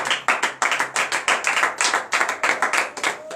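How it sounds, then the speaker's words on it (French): A church congregation claps in rhythmic acclamation at a morning prayer service in Comè, Benin, with sharp, loud, evenly spaced handclaps in a fast repeating beat and no talking. "Donnez l'acclamation à notre Seigneur Jésus"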